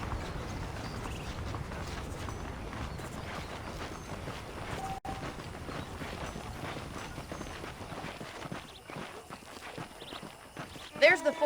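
Saddled horses in Red Dead Redemption, hooves clopping and footsteps moving steadily under ongoing speech, moderately close.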